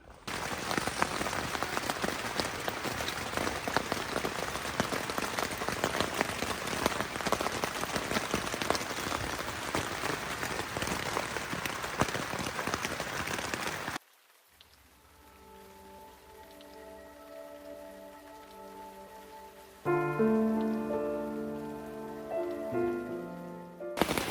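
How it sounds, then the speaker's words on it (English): Steady rain hisses across a surface for about fourteen seconds, then drops away as quieter tonal sounds take over. "It's just starting to rain."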